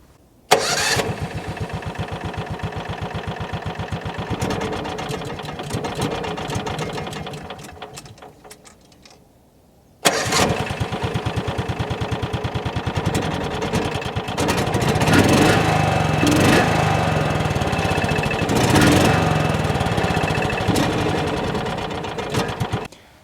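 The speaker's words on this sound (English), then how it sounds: "let's start up the Gator and see how that one-cylinder engine sounds" A 1998 John Deere Gator's one-cylinder engine cranks and fires, runs with a steady fast chug, dies away near ten seconds, then restarts and keeps running loud and close, with no talking over it.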